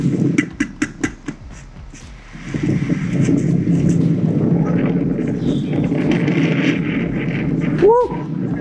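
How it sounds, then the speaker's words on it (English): Strong wind roars steadily outside during curb-mounted Velux skylight reflashing on a low-pitch roof, a loud broadband rush that swells after the first couple of seconds, with some knocking early on and a brief voice near the end. "You guys can hear that wind howling."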